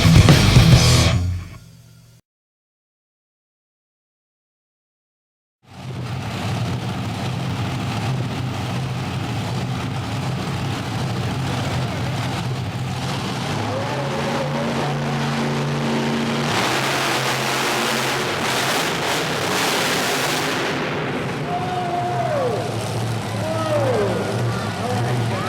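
Monster trucks Bigfoot and Viper racing in the finals at a Tulsa, Oklahoma event, loud sustained engine roar after a brief silence, building with revving, under a commentator's voice and crowd noise.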